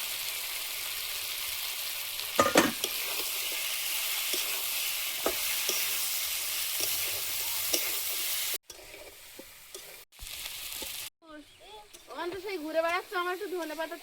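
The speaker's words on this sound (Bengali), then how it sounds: "টমেটো পেঁয়াজ ভাজা ভাজা হয়েছে এবার চুনো মাছটা দিয়ে দেবো" Small fish go into a pan of frying tomato and onion, giving a steady oily sizzle with scraping stirs; after a few short breaks the frying continues under brief talk.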